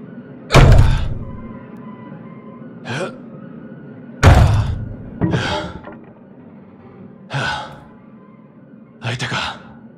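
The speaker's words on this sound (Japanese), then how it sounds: "ドアを蹴破ってみるか。" Heavy wooden door kicked in a dark horror video game, several loud booming thuds and impacts with pauses between, up close, with short gasping breaths in between.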